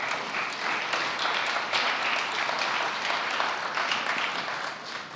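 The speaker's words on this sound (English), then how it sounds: "Let's give another round of applause." A summit audience gives a sustained round of applause, dense and even clapping that stays strong throughout with no voices on top.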